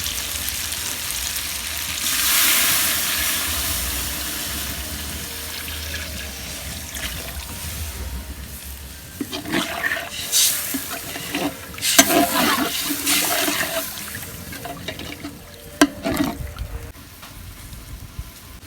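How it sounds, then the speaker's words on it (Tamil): Water coming to a rolling boil in a pot for country chicken biryani, a steady bubbling roar with a louder surge early on, then uneven gurgles and pops toward the end, with no talking. "நல்லா கொதிஞ்சு வர ஆரம்பிச்சிருச்சு."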